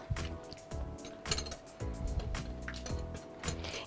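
Mushroom frittata batter is poured into a lined 20x30 cm baking pan, giving soft wet glugs and splats in uneven bursts, with light clinks of utensils against the container, close and fairly quiet.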